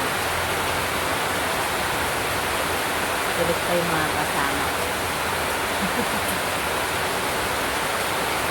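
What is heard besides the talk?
rain falling during a storm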